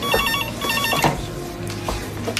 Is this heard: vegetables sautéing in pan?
no